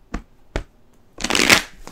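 Two quick taps of tarot cards, then a dense riffling burst as the tarot deck is shuffled up close, with no talking.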